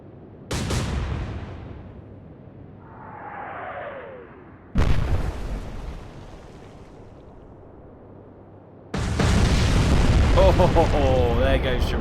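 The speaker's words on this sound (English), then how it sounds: "3 torpedo strikes after taking a salvo from the Tirpitz" Torpedo strikes detonating against a warship in the naval game Atlantic Fleet: three loud, separate booms a few seconds apart, each with a rumbling tail. The last blast is the heaviest and carries a lingering roar.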